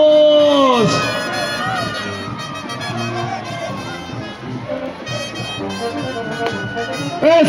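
Stadium crowd at a band performance in a municipal stadium cheering and shouting, with an announcer's voice over music at the start and a continuous loud roar of the audience throughout.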